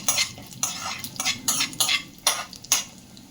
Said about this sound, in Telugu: మనం ఇందాక తీసి పెట్టుకున్న పోపు దినుసులని దీంట్లో వేయించేసేయాలండి